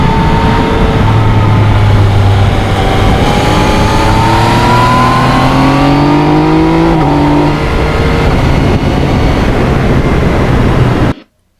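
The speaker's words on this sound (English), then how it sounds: "the A mode really gives you a quick throttle response" A 2020 Yamaha MT-09 crossplane triple motorcycle accelerates hard on a back road, its engine loud and close with a steadily climbing pitch that holds for several seconds before cutting off abruptly.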